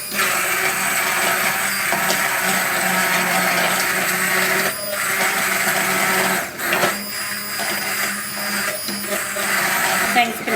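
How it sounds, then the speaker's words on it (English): An immersion blender whirs loudly and steadily, briefly cutting out and restarting midway, its high motor whine churning through thick soup. "I'm now going to use the immersion blender to make what is a very chunky soup into a lovely pureed"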